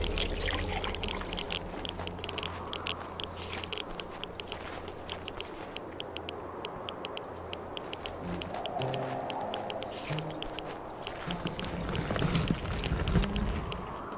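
Water pours and trickles steadily for a long stretch in the video game Wasteland 2, with splashing and dripping over a low droning background.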